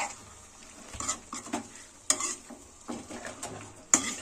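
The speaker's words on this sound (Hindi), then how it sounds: "ये साथ में अब क्या होता रहेगा, फ्राई होता रहेगा मसालों के साथ साथ ये भी" Chicken frying with spices and coriander in a pan for a desi chicken pyaza, with a steady sizzle under repeated stirring scrapes and a few sharp clinks of a spoon against the pan.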